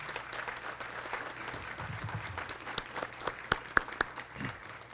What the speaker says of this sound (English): let's give them a round of applause for the work that they have done